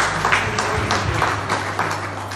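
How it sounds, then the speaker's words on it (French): An audience applauds at a presentation of a digital communication study program, a loose, moderately loud clatter of hands with a few sharper claps standing out over a low electrical hum. "Vos applaudissements, s'il vous plaît."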